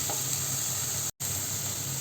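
Sliced onions sizzle in hot oil for a mushroom masala, giving a steady close hiss with a brief gap midway and no talking.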